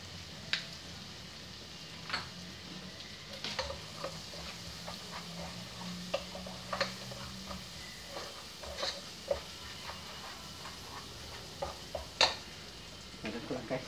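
Vegetables fry in a pan with cumin, a low steady sizzle broken by sharp clicks and taps of a utensil stirring against the pan, fairly quiet and close.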